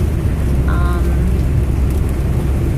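Steady rain from the start of Hurricane Arthur in 2014 patters hard against a car windshield, a dense continuous hiss with a few brief tonal squeaks and no talking.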